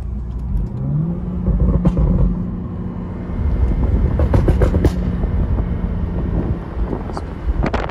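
A tuned BMW 435i with MHD Stage 2, over 400 hp, revs and roars along a curvy road, with a few sharp exhaust pops crackling through amid steady wind noise.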